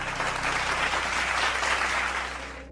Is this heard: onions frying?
no